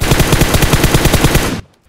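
Automatic gunfire in the battle-royale game PUBG Mobile: a rapid, evenly spaced burst of loud shots that runs for about a second and a half, then cuts off abruptly into silence.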